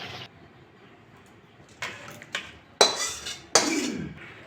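A cooking pot of prawn and taro-stolon curry is lifted off the stove: a few sharp metal clanks and scrapes of pot and utensils, close and distinct, growing louder toward the end.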